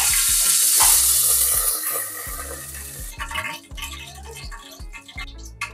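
Ghee hisses and sizzles loudly in a hot pan for jeera rice, a bright frying crackle that is strongest at first and then eases into a softer, bubbling sizzle, close by with no voices.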